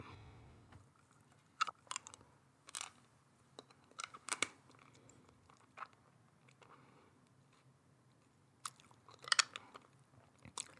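Mikan, a Japanese winter citrus fruit, being bitten and chewed up close, with scattered soft wet crunches and pauses between bites in a quiet room.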